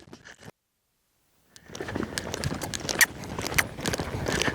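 A horse lopes on a wide circle, its hoofbeats thudding in a rolling rhythm after a brief silent gap, fairly close with scuffs from the ground.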